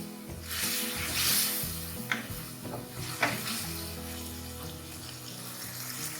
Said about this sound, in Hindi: चिकन हमारी बहुत अच्छी तरीके से भून चुकी है